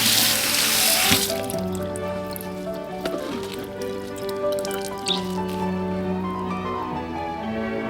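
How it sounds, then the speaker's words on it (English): Blanched sweet potato leaves or spinach rinsed under cold running water from a kitchen tap, a steady close splashing stream with dripping into the sink and a brief heavier gush near the start. "running it under cold water"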